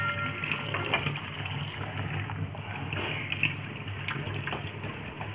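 Cold water pouring steadily while rasmalai is being made, a soft continuous gushing splash heard alone at low level for several seconds.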